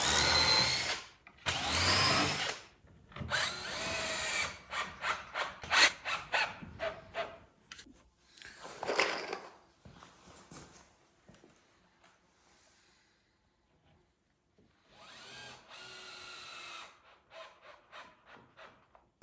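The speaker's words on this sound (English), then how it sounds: "I'm going to fit these battens in, screw them down to the block" A power drill drives screws through battens into a wooden block, heard as several short bursts of whirring and grinding separated by quiet pauses and handling noises, close and fairly faint.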